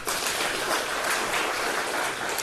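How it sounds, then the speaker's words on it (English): Audience applause at the handover ceremony for a China-aided satellite ground data receiving station in Namibia: dense, steady clapping that holds at an even level throughout, with no voices breaking through. "Round of applause again."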